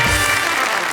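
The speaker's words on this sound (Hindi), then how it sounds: "हम जोरदार तालियों से स्वागत करते हैं इनका।" Studio audience applause on a Hindi TV comedy show welcoming a guest: a loud, dense burst of clapping over a brief moment.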